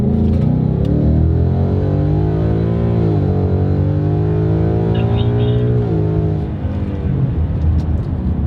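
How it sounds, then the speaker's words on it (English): A 2018 Ford Mustang GT in automatic launches hard from near a standstill, its V8 engine roaring loudly and climbing through rising revs with a brief shift dip, close and continuous. "when you just rip it in the auto, when you're just like near a dead stop, it is so much fun"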